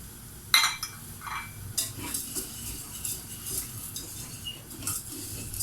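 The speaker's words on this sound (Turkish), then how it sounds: "Arkadaşlar ben önce tarhanamı kavurarak yapacağım. Önce tarhanamı kavuracağım." Tarhana and thin vermicelli dry-roasted in a pot for tarhana soup, a spoon scraping and clinking against the metal in irregular strokes over a soft, steady background, with no talk.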